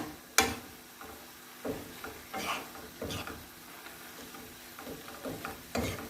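Beef stir-fry with holy basil being stirred in a pan, quiet scraping strokes of a utensil against the pan at a steady pace, with soft sizzling underneath.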